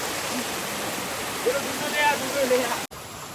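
A forest waterfall rushes as a steady broad roar, with a few faint voices rising briefly over the flowing water before a short cut near the end.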